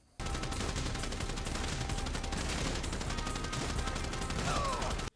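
Sustained gunfire in GTA 5, a dense, continuous barrage of rapid shots that starts abruptly and runs unbroken at a steady loud level, then cuts off sharply.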